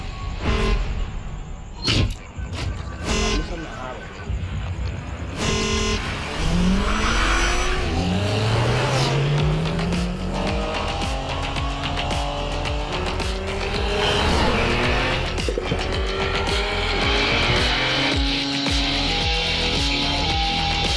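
Race cars at Buddh International Circuit during a World Racing League race roar continuously, engines rising and falling in pitch as they pass, with tire squeal and revving layered over a loud, dense mix.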